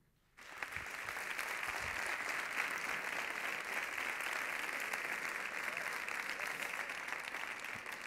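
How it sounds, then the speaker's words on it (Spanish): Audience applause welcoming the presenter onto the stage at a sports gala, a steady dense clapping that starts abruptly and holds loud and even throughout. "recibamos con un fuerte aplauso al presentador de la gala"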